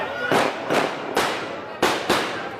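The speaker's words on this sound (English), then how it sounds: "firecrackers going off, even though they are banned" Firecrackers banned in India but set off during a Gurpurab celebration burst five times in quick, uneven succession, each crack sharp and loud and trailing into a noisy outdoor background.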